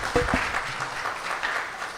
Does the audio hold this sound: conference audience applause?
yes